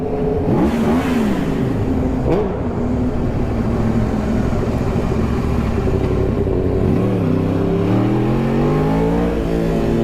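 A powerful superbike engine revs up and down repeatedly, loud and close, its pitch rising and falling in sharp bursts with a steady rumble underneath.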